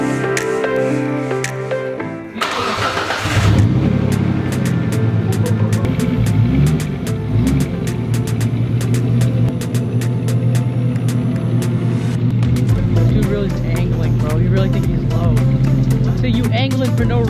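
A turbocharged Nissan Skyline GTR drives under its own power, its engine holding a steady, rumbling drone with scattered ticks and clicks throughout, loud and close.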